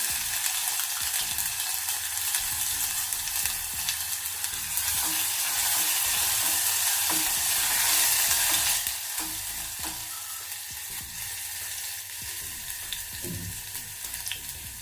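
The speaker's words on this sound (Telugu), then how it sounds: "1/2 స్పూన్ వరకు ఆవాలు, అలాగే 1/2 స్పూన్ జీలకర్ర, 1 టీ స్పూన్ వరకు వెల్లుల్లి ఇలా దంచి వేస్తున్నాను." Mustard seeds, cumin and crushed garlic temper in hot oil with a dense, continuous crackling sizzle that swells, then eases slightly, heard close up with faint scattered pops and no voices.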